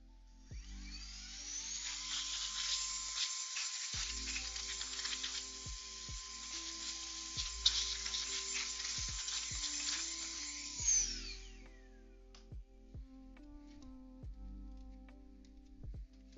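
Continuous hissing blast of compressed air cleaning dust out of an opened NES console, steady for about ten seconds before cutting off, with clicks and handling knocks of the console and tools around it.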